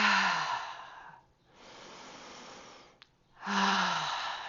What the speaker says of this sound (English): the breath I'm going to teach you now is the anti-anxiety breath, and it's a ha breath